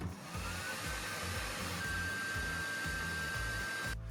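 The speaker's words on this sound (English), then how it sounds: "Next, a Philips hairdryer rated at 2100 watts." A 2100-watt Philips hair dryer runs continuously, a loud steady whooshing blow with a low rhythmic motor hum, powered by a portable power station, cutting off abruptly at the end.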